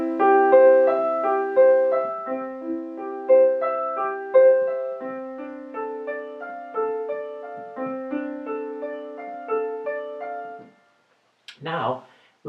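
Piano plays the opening three measures of Bach's Prelude in C Major as steady broken-chord arpeggios, ringing clearly and alone for about eleven seconds before a short burst of voice at the end.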